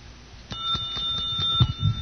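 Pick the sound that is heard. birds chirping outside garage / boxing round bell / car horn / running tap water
boxing round bell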